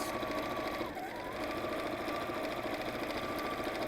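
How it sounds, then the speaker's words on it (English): A sewing machine runs a straight stitch across the top of garment pockets, a close, continuous, even whir with a rapid needle rhythm and no pauses. "let's just sew across the top of the pockets"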